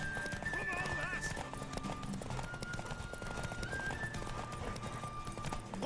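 A horse's hooves clip-clop at a gallop as it neighs and whinnies in The Witcher 3 on PS5, with game music and voices mixed in around it.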